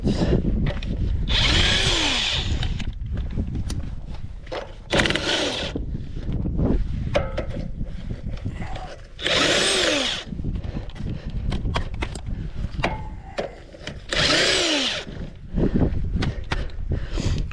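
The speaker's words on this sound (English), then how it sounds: "take our impact gun, we loosen that" An impact gun loosens the lug nuts on a trailer wheel in four loud, whining bursts of rapid hammering, separated by quieter clanks and handling noises.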